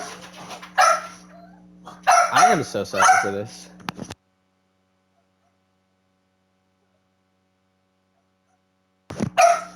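Pet dogs indoors wanting to go outside, giving a few short barks and whimpers mixed with a man's apologetic speech, then a long silence before another brief bark near the end.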